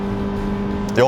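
The engine of a Mini Cooper S 5-door is held high near 6000 rpm, a steady, close, droning hum from inside the cabin that shifts and rises sharply right at the end.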